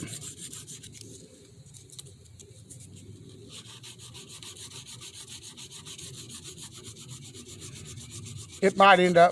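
A knife blade is rubbed back and forth on 220 grit sandpaper, a soft, steady scraping that grows slightly louder, ending with a few sharper strokes.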